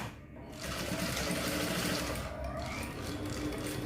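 Sewing machine stitching the slit of a fitted pencil skirt, a steady continuous whir running close and fairly loud for the whole stretch.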